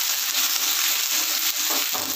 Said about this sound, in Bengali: গ্রেট করা আদাটা আমি দিয়ে দিলাম।